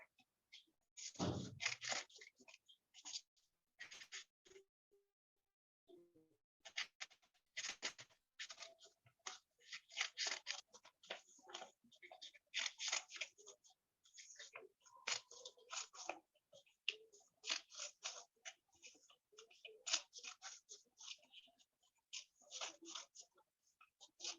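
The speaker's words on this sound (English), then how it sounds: "So just cut the thin stripes." Scissors snip through thin paper strips for an origami flower in repeated short crisp cuts, close and fairly quiet, with brief pauses between runs of snipping.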